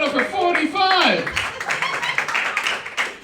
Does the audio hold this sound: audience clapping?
yes